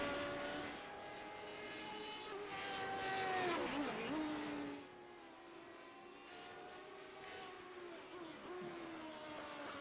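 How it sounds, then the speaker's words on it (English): Jumbo jet taking off in the background of a Radical SR8 racing video game at Knockhill; a distant roaring engine swells and falls, then a quieter steady drone continues with whining tonal engine notes. "as we hear Jumbo going off in the background"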